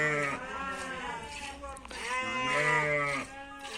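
Sheep bleat loudly on a village farm during milking, two long wavering calls close by, one after the other.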